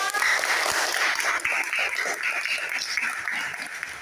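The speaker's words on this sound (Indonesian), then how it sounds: "Tepuk tangan untuk kita semua." Classroom applause from a group of students, a steady, dense patter of many hands clapping close by, sustained evenly for several seconds with no talk over it.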